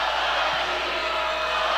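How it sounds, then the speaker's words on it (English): Home crowd at a college basketball game between OIT and Warner Pacific, a steady roar of fans cheering down the stretch, dense and continuous with no single standout shout. "OIT crowd coming alive here down the stretch"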